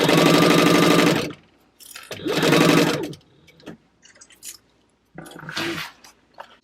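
A home sewing machine stitches fabric at a 3-stitch length for a bag, running in loud, close mechanical bursts: a long run, a pause, another run with a short reverse backstitch, then lighter handling clicks and a final short stitch.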